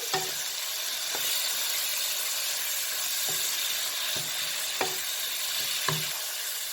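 Spices fry steadily in a pan with salt, ground coriander and cumin for a mushroom biryani masala, under a constant close sizzle; a spatula clacks against the pan at irregular moments while it is stirred, and no one speaks.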